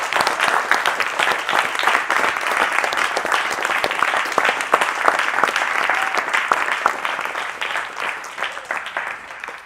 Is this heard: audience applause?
yes